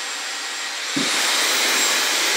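Dyson Airwrap blowing hot air, a loud steady rushing whoosh that rises slightly after a brief bump near the start, held close and constant with no talk.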